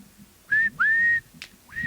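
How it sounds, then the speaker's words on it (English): A person whistles a few clear, high notes close by: a short tone, a longer sustained one rising slightly at its start, then a brief chirp and another note beginning, with no talk over them. "what else are you the best at? Whistling."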